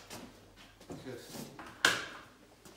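An indoor door without any drive mechanism is opened and shut, giving soft movement sounds and then a sharp latch click near the end, with someone talking over it.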